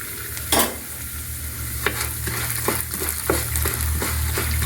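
Urad dal hits hot oil in a pan and crackles in a steady sizzle, with a series of scraping stirs and light spoon knocks spaced through it, close and fairly quiet, no voices.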